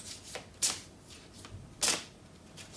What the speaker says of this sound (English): I'm going to pull another card for that